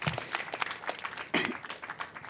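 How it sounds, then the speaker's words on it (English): A crowd applauds in a dense burst of clapping that swells and carries on for a couple of seconds at moderate volume during a governor's announcement on homelessness funding. "Round of applause for that."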